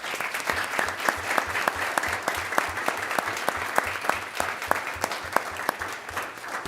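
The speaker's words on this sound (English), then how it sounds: "So we want to give a huge, huge applause for him." An audience at a high school district board of education meeting claps steadily for several seconds, a dense run of individual hand claps heard fairly close, with no talk over it.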